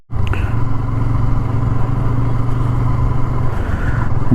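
A motorcycle rides along a heavily fogged road near Meerut on a winter ride, its engine giving a steady, close, continuous drone with a constant low rumble throughout, and no talking.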